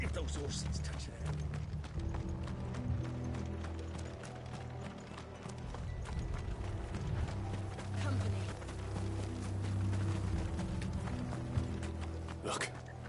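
Horse hooves clip-clop in Final Fantasy XVI, a steady run of sharp hoof strikes over game music and ambience, with voices talking over them.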